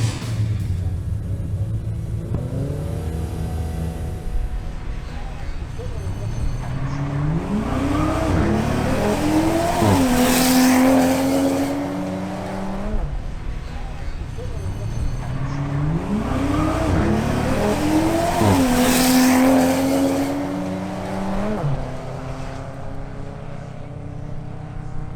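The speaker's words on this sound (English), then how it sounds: "And now, Angel Molina's BMW M340i xDrive makes its run" A BMW M340i xDrive accelerating hard on a speed run, its engine note rising through a loud, continuous sweep, dipping at a gear change and climbing again, twice over, with no talk.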